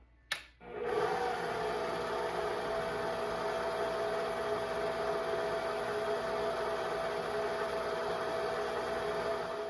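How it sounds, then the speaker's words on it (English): Electric hand mixer running steadily on low speed through banana bread batter, a constant close whirring hum that starts with a brief click and carries on unbroken. "And I'm going to mix that again on low."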